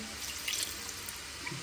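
A little water is poured into a cooking pan while making chicken roast, a quiet, steady trickling splash with small drips, heard alone in a kitchen.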